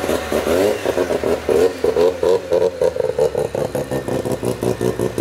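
A Mazda RX-7 FC's 13B rotary engine revving hard nearby, a loud, buzzy, pulsing drone that rises and falls in quick repeated throttle blips, with no voices over it.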